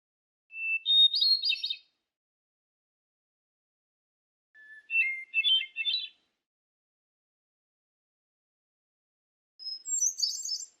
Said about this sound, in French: on est admiratif devant la complexité du chant de cette grive solitaire